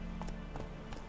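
Roach, a horse in The Witcher 3, gallops at a quick, steady pace. Soft hoof clip-clops recur under a constant ambient game drone.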